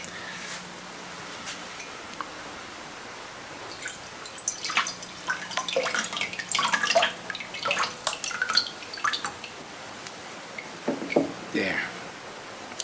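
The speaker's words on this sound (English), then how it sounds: "I'm going to pour the glaze around the outside of the piece. So I'm doing it over a bowl to catch the excess drips of clay" Thin clay glaze is poured around the outside of a ceramic piece held over a bowl, giving irregular wet trickles and drips that grow busier midway and then thin out, with a voice talking quietly at times.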